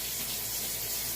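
Tap water runs steadily into a sink while a French press is rinsed out, a brief, continuous hissing splash heard up close.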